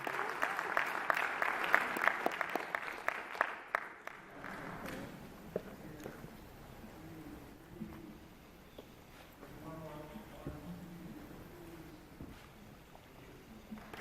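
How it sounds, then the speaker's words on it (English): An awards-ceremony audience gives a loud round of applause for Distinguished African American Scholar finalists; the clapping stays strong for about four seconds, then dies away into quieter room noise with some talk. "Let's give another round of applause for our Distinguished Scholar finalists for 2022."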